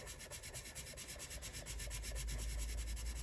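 Faber-Castell Pitt pastel pencils are swatched on tan toned paper, giving close, scratchy rubbing strokes in a quick back-and-forth rhythm that turn denser and more continuous toward the end, with no talk.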